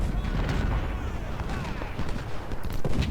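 Musket volleys crack and rumble across a Civil War battlefield at Fredericksburg in a strategy game, the dense overlapping fire sustained and fairly loud for the whole stretch with low booming beneath.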